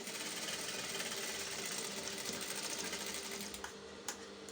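A sewing machine stitches a curved trouser side pocket, running in a loud, rapid, continuous whir up close before slowing and stopping near the end.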